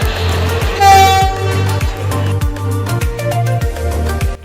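Howrah–Puri Vande Bharat Express at a railway platform: a loud, close horn toot rises briefly over a steady, rhythmic low clunking of the train, with no voices.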